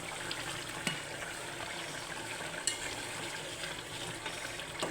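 Tomatoes cook down in a pan for a Bengali curry, a soft, steady sizzle with a couple of brief clinks from a utensil, fairly quiet and close, without speech.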